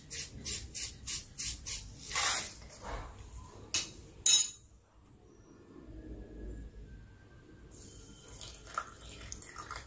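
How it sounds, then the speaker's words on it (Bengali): A little water poured onto two spoonfuls of gelatin to soak it: a run of quick splashy pulses, then a sharp clink of a spoon against a container, followed by quiet kitchen rustling. "অল্প একটু জল দিয়ে আমি ভিজিয়ে রাখলাম"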